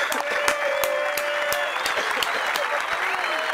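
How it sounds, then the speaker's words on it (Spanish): A crowd at a Rosario Underfree freestyle rap battle bursts into applause, continuous dense clapping with sharp individual claps standing out, plus a faint held tone in the background. "aplausos"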